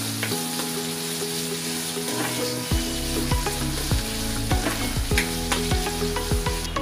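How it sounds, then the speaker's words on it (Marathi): Onion sautés in oil in a pan for Manchurian gravy, a dense continuous sizzle with regular scraping stirs of a spoon against the pan, close and fairly loud, with no voices. "मी त्यामध्ये कांदा टाकणार आहे आणि त्याला पण मी व्यवस्थित तेलामध्ये परतून घेणार आहे"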